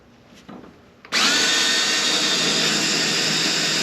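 A power tool whirs up loudly and runs at a steady, high-pitched drone while its bit spins stripped screws that won't back out of a rusty gas-engine machine, preceded by a few faint clicks and handling noises.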